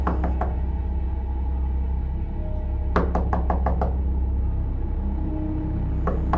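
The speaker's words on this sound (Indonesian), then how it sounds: "pengemudi taksi memutuskan untuk mengetuk pintu rumah itu" Knocking on a house door in two sharp bursts of several raps each, with a few more single knocks near the start and end, set against a steady low rumble.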